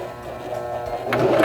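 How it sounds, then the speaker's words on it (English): Singer Start 1304 sewing machine stitching a buttonhole bar tack, a short run of rapid mechanical needle strokes with a steady motor whir that grows slightly louder toward the end. "We're going to sew this about 6 to 8 stitches."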